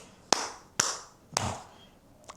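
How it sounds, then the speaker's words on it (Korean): Three sharp, separate hand claps ring out at a slow, even pace at a youth worship leader study session, followed by a fainter fourth, with quiet between each. "박수로."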